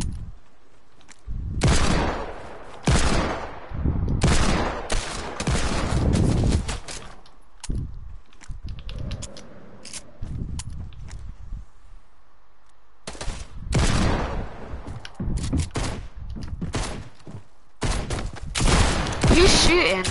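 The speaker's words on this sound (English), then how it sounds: "Who's shooting?" Gunfire in a video game comes in dense, loud bursts of rapid shots with short pauses between them, the firing recurring through the whole stretch.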